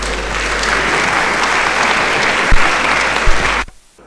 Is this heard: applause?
yes